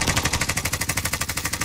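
Rapid automatic gunfire from a first-person shooter game, a steady rattle of about fifteen evenly spaced shots in under two seconds, loud and close with no talking.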